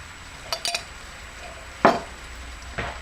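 A spoon stirs whole grain mustard into an asparagus stir fry over a soft sizzle, with a few short clinks and scrapes against the pan.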